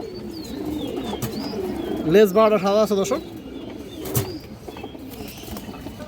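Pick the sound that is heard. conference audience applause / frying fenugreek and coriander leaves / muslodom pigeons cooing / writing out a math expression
muslodom pigeons cooing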